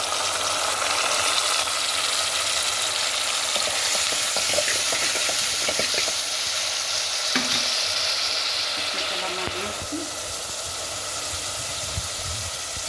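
Sea fish sizzles in a pan of hot oil with a dense, continuous hiss that holds near and fairly loud throughout, with a few faint clinks and no one talking.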